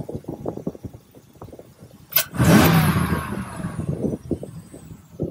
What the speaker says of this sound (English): Again, that's the AFE Cold Air Intake. You hear that hiss?